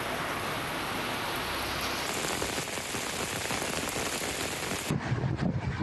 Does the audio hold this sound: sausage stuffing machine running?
no